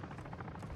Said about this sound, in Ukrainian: Вертольот, чи мені здається?